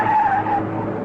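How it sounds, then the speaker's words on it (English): A car's tires squeal as it swings round a sharp turn onto a side road, one loud, sustained screech that slowly fades, with engine noise beneath and no voices. "She swung her car round and made a sharp turn down a side road."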